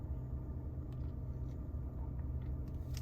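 Steady low rumble of a Mazda CX-30 G25 Touring SP's engine idling, heard from inside the cabin, quiet and constant throughout with no talk.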